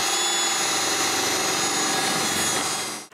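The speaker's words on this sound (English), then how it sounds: "it's possible to drill another hole for a common bolt." A power drill boring a hole for a bolt through a snowmobile frame outdoors in snow, a loud, steady close-up whine that runs continuously and then cuts off abruptly at the end.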